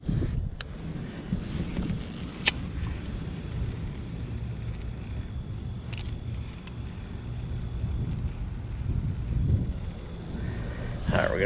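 Wind buffets the microphone while paddling a Native Titan 10.5 kayak through weed beds, a steady low roaring rush close up with a few faint clicks and knocks, no talking.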